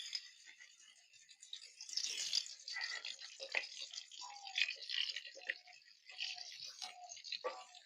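Fish laid into hot oil in a pan, a faint crackling sizzle with irregular spits and pops that rises after a couple of seconds and continues unevenly.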